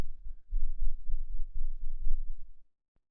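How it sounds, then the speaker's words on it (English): A series of dull, low thumps and knocks from tapping a boom arm holding a shock-mounted Synco Mic-D2 shotgun microphone, repeated irregularly for a couple of seconds, then silence with one faint click at the end. "we'll tap the boom arm and see if we get any difference in how much it picks up"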